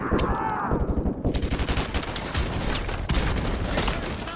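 Heavy automatic gunfire in Call of Duty Modern Warfare 2 Remastered: rapid machine-gun bursts rattle loud and close in a continuous barrage, with a whooshing effect at the start and overlapping shots throughout.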